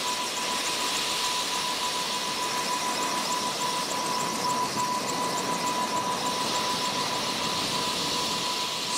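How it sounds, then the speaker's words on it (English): A firefighting helicopter's rotor blades and engine, a loud, steady roar of turbine whine and broadband rushing wind that holds constant throughout, close by. "we could definitely feel the air and the wind coming from the chopper blade"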